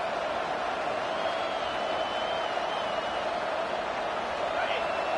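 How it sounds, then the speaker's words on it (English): A steady, loud roar from the stadium crowd at a college football game, Florida State visiting Michigan, with the home fans urging on the defense; the wash of noise holds constant and dense throughout. "The roar of the crowd trying to fuel this defense to keep them pinned in their own end."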